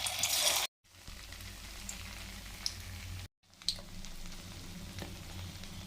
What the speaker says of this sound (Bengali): বলগুলো সব লাল করে ভাজা হয়ে গেছে